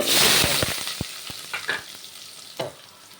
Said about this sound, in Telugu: ఇదిగోండి ఆవాలు మెంతులు వేగినాక